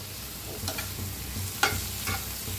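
Crushed garlic and green chili roast in a pan for aloo paratha filling, with a soft sizzle under a few sharp spatula scrapes and stirs, quiet and close.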